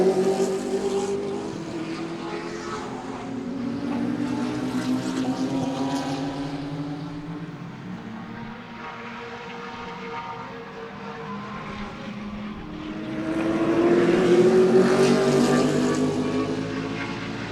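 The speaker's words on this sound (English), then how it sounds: "What a pretty race car, man." GT race cars roar around the Sebring circuit, engines rising and falling as they pass, swelling loudest near the end, with no talk over the continuous motor noise.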